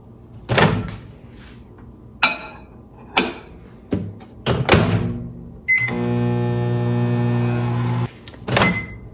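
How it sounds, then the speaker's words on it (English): A microwave hums steadily for a couple of seconds while heating salted caramel frosting, surrounded by loud clunks and bangs of its door opening and closing. "I'm going to microwave the salted caramel frosting first for 1 minute"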